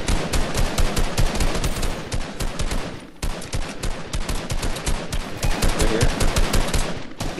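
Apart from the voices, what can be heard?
gunfire in the video game Fortnite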